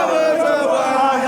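A large, frustrated crowd at a protest produces a dense, steady roar of many voices, close and continuous with no single speaker standing out.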